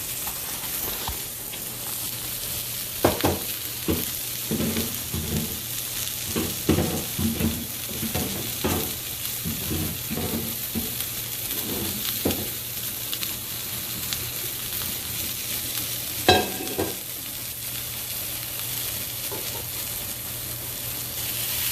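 Food sautéing in a pan, a continuous close sizzle with a string of spatula stirs and scrapes clustered mid-way and a sharper clink later on.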